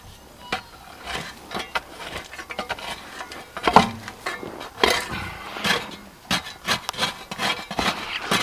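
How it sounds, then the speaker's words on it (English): Shovel shaving the solid clay sides of a hole dug for a storm shelter: close, scraping rasps in uneven bursts, each one rough and gritty, with short pauses and knocks between strokes. "Just shaving off the sides here a little bit."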